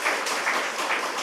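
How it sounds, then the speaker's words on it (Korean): Congregation applauding at a church service in Gwangju just after a baptism, a brief, dense burst of many hands clapping at moderate loudness with no voices standing out. "박수로 축하해 주겠습니다."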